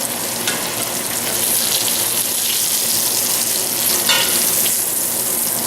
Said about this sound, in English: Look at that sizzling, nice steak.